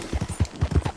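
Horse hooves clip-clop at a gallop in the open-world western game Red Dead Redemption 2, a quick run of about eight close, thudding hoofbeats in an uneven rhythm, heard alone.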